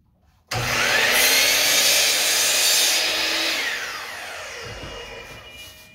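Bosch mitre saw with a robotic arm cutting wood in a home wood shop: the motor spins up abruptly into a loud, steady whine with a rasping cut, then slowly winds down over several seconds.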